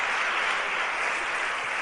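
An audience applauding at a live event honouring Joaquín Sabina: dense, steady clapping from many hands that fills the room continuously without a break.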